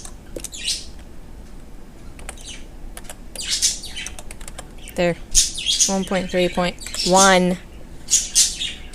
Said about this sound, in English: Yes, the birds are very loud.